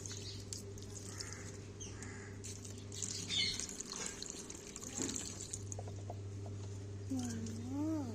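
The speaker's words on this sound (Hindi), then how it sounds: "पौधे में मैं पानी डाल दी हूँ" Water splashes steadily as it is poured onto a flowering plant outdoors. A crow caws nearby and people talk quietly over a low background hum.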